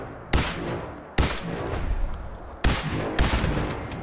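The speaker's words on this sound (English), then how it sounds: "Let's shoot that thing up." Rapid gunfire from shooting an enemy in the video game Fallout 4: three loud bursts of shots, each ringing out and then tailing off before the next, with no voices.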